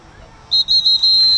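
A referee's whistle at a high school boys' lacrosse game, Glencoe against CC, gives a loud, shrill blast broken into several quick pulses, sounding close over faint crowd noise.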